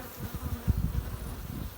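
Dense, close buzzing of honeybees swarming around a beehive, a continuous droning hum with fluctuating wingbeat pulses and no speech.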